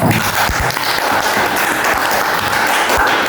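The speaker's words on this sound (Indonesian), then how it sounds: "Kita kasih tepuk tangan buat" A group of students claps for a classmate during a school counselling session, a steady, fairly close patter of hand claps filling the whole short stretch.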